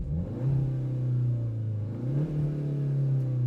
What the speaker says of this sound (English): This car plays fake engine sounds through its stereo speakers to make it seem more sporty